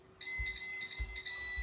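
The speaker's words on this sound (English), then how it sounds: "that was the driveway alarm" A driveway alarm beeps in a repeating high-pitched pattern of short tones, fairly faint, with a low hum underneath and no voices.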